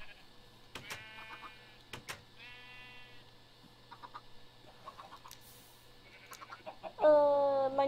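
Minecraft chickens and a sheep sound off in turn, with scattered clucks and a couple of drawn-out bleats, the last bleat near and loud at the end.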